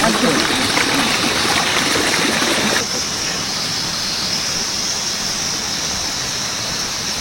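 Pure water flows continuously in a dense, steady rush, louder at first and then settling to a softer, even gush for the rest of the moment, with no talking.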